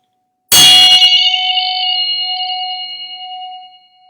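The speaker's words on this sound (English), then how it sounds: "This is a Tibetan bell." A single Tibetan metal bell is struck once, ringing bright and clear, then sustaining a long humming tone that slowly fades.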